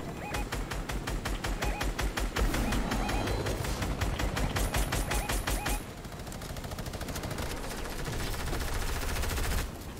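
Sustained automatic hip-fire in Fortnite rattles off in fast, evenly spaced bursts for several seconds, pauses briefly, then resumes, loud and close, with faint voices underneath.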